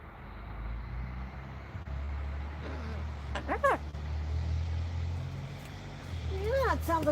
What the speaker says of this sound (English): it sounds like a big dump truck